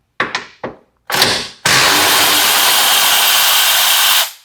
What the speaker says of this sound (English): we have 6 13mm bolts to remove, a couple across the back,